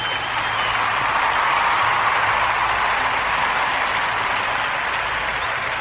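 Canned applause inserted as a sound effect in a weather podcast, a dense even wash of clapping heard alone at steady volume for several seconds.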